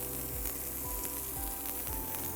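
Garlic and red chili tempering sizzles in a hot pan with a steady, continuous hiss and crackle, close up and alone without any talk.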